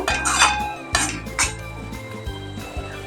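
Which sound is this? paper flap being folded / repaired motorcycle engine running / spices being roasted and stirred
spices being roasted and stirred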